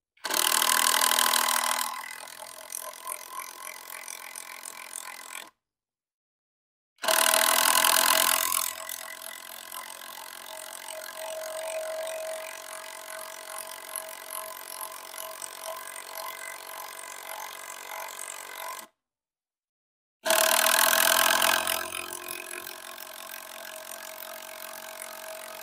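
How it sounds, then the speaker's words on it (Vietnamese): Bursts of a cordless impact driver driving wood screws into wood, three loud rattling hammering runs separated by short silences, each followed by a lingering lower whir, close up with no talking. "Với chức năng bắn vít gỗ anh em ơi."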